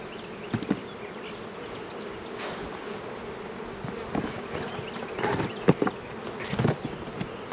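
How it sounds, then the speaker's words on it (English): Honey bees buzz in a steady, close drone around hive frames being set up in single deep boxes, with a few sharper passes and handling knocks. "we're gonna put a few extra bees in this one"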